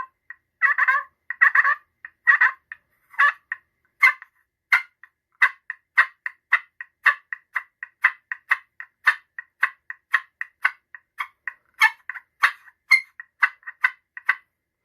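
A Quaker Boy Magic Touch slate turkey call is worked by hand, giving close, clear clucks, purrs and yelps. The calls come in short bursts at first, then in a long, quick, rhythmic run of sharp notes over silence.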